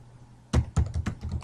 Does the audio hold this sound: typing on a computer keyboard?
yes